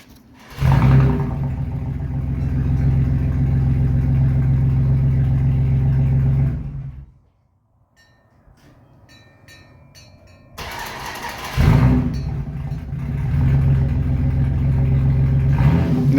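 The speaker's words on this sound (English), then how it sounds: "that truck sound good" A Dodge Dakota pickup truck engine cranks and fires, settles into a loud, steady low rumble, cuts off to near silence with faint clicks, then starts again and runs at a strong idle, close by.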